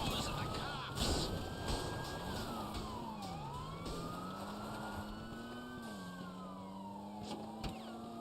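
Police sirens wail in a chase in GTA Online, one rising and falling tone sweeping slowly up and down, moderately loud over steady engine and traffic noise.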